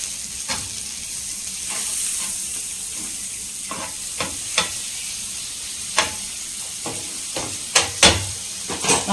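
Butter sizzling in a pan while a paneer burger cooks, a loud continuous hiss and crackle with scattered sharp pops and spatters throughout, no talking.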